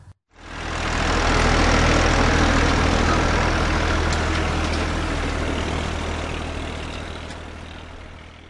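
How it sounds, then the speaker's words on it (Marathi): A tractor engine idles loudly and steadily, a deep continuous rumble that starts abruptly and slowly fades slightly toward the end. "ट्रॅक्टर."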